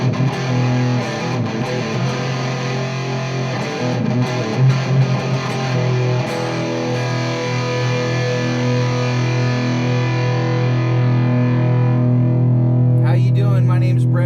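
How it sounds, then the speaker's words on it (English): Electric guitar played through Carl Martin Plexitone and Radial Tonebone Trimode distortion pedals, a loud sustained distorted chord ringing steadily and decaying slowly, with a brief voice at the very end. "we're going to talk about two awesome distortion pedals, the Radial TONEBONE TRIMODE and the plexitone from Carl Martin"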